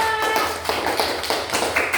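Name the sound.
children clapping for a class group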